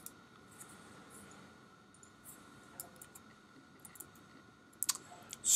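Faint, sparse computer mouse clicks tick quietly over a low background hum, a few isolated clicks with a louder pair near the end.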